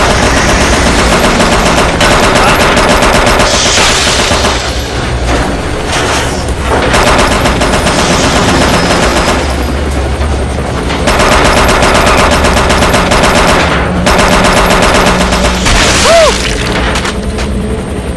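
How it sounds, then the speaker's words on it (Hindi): Machine gun fire in an action movie battle scene, sustained rapid bursts with heavy booms and crashes, loud and dense for the whole stretch with only short lulls between volleys. "मैं उस पर फायर करने वाला हूँ।"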